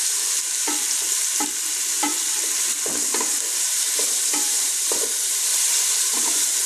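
Boiled carrots cooking in a pan for white sauce pasta, a steady loud frying sizzle with a regular series of spatula stirs and scrapes against the pan every second or so.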